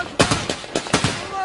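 Rapid gunfire from Syrian rebels fighting into northern coastal towns in Latakia province, several sharp loud bursts in quick succession over about a second and a half.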